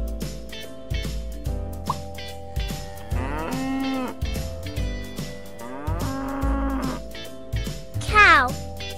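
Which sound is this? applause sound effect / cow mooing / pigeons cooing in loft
cow mooing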